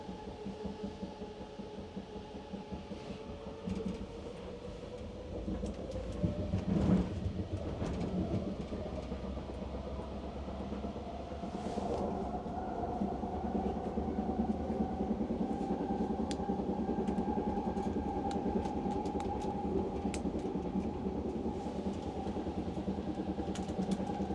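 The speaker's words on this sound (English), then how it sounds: "There goes another outbound train." An outbound train rumbles past at a distance in Vancouver, a steady low mechanical roar with rail clatter that swells and holds, heard from inside another moving train.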